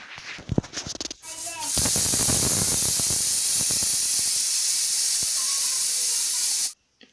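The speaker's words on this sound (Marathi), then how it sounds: "इथं कुकरचे शिट्टे झालेले आहेत" After a few clattering knocks and faint voices, a loud, continuous burst of hissing steam rushes out of a pressure cooker and stops abruptly.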